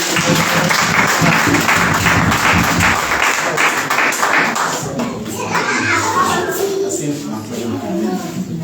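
A church congregation at a Sunday service applauds loudly and continuously, a dense wash of clapping with excited voices and children's chatter mixed in, tapering slightly toward the end.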